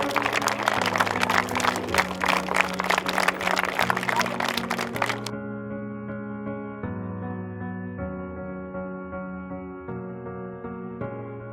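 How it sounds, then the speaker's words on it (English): Crowd applause for parents, families and friends at a football clinic, a burst of clapping that cuts off after about five seconds, leaving low sustained music tones underneath. "Clap it up for the parents, the families, the friends."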